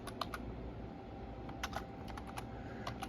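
Typing on a computer keyboard, a quiet run of light key clicks in small irregular bursts with short pauses, heard alone against a soft background hum.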